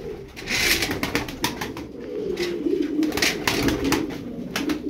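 Tumbler pigeons coo repeatedly over a continuous backdrop of flapping and rustling, with a soft low cooing murmur running throughout.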